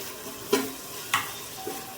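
Spatula stirring turmeric and coriander powder into vegetables frying in one pot for dal khichdi, two distinct scraping strokes over a faint sizzle, close and alone without talk.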